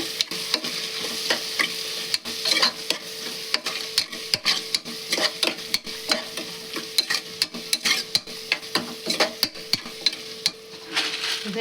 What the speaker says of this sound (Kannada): ಇವನ್ನೆಲ್ಲ ಮಸಾಲೆ ಹಾಕಿ ಮಾಡಿದ್ರೆ ಒಂದು ಸ್ವಲ್ಪ ಕೊತ್ತಂಬರಿ ಹಾಕೊಂಡ್ರೆ ಎಲ್ಲ ಮಿಕ್ಸ್ ಮಾಡೋದು ಎಣ್ಣೆ ಒಳಗೆ